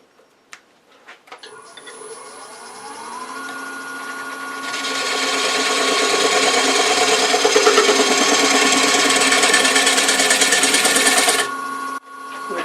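Steady whirring drone of a wood lathe as a 1/2-inch bowl gouge cuts the tenon on a live-edge walnut bowl, rising in level and holding as a continuous scraping hum for several seconds before stopping abruptly near the end.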